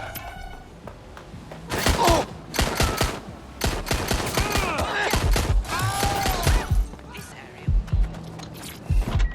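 Gunfire in the game Watch Dogs Legion comes in clusters of sharp close shots and quick volleys, separated by brief lulls, with voices speaking between the bursts.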